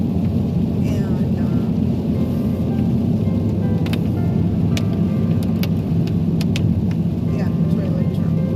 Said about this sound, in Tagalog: My car is still so loud noise, guys, because of my winter tires.